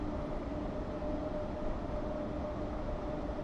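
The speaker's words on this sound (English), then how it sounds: "Let's see if a train go by again, shall we?" A train running past in Train Sim World 6, a steady low rumble with a faint sustained hum, heard alone and fairly quiet.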